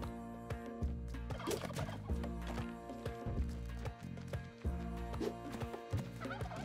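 Turkey mount calls in the Spelunky 2 video game, a run of whinnying, gobbling animal cries layered over steady game music with clip-clop footsteps, moderately loud and continuous, with no talking.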